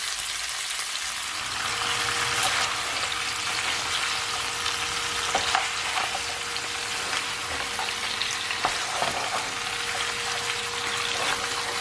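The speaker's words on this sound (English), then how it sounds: "saute a bit, fry off a bit" Onions and cow foot fry uncovered in a pot for a Jamaican cow foot dish, giving a steady close sizzle with occasional pops and crackles throughout and no talking.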